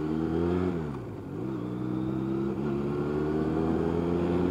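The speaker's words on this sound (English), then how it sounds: "this is technically the first ride on the Honda Rebel" A Honda Rebel 250 motorcycle engine runs close by on a ride, its pitch rising, dipping and climbing again with gear changes, then holding as a steady droning hum, with no talking.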